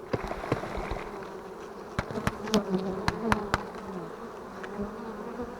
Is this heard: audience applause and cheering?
no